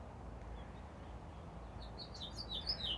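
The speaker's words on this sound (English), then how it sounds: "The birds are singing away." Birds chirp and tweet in a quiet outdoor backyard beside a house, with a few high calls growing more frequent toward the end over a low background hum.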